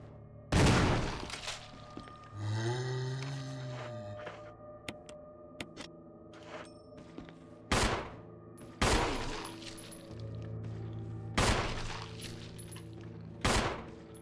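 Gunshots in the Resident Evil Remake video game ring out as about five loud, sharp reports spaced a couple of seconds apart, each echoing briefly between humming game sounds.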